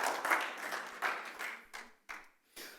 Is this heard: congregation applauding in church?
yes